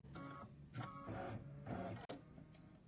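Domestic sewing machine stitching a tack-down line on a fabric mug rug, a steady mechanical whirring in several bursts with brief pauses, close and alone.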